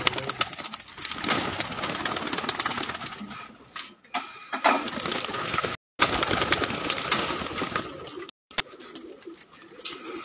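Pigeons cooing on a rooftop loft, soft repeated throaty coos in uneven bursts with brief silent gaps and a sharp click near the end.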